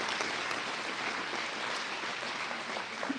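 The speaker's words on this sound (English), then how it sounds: "let's give her a round of applause" Crowd applause at a county fair coronation, an even, dense patter of many hands held at a steady moderate level throughout, somewhat distant and without talk.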